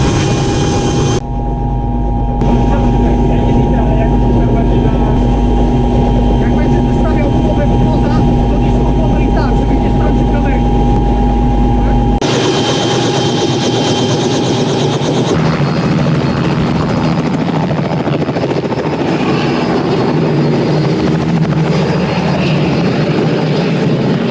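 Loud, close helicopter rotor and engine noise with a steady low rumble and beating rotor drone that shifts in character about halfway through, heard from in or beside the helicopter, with voices partly under it.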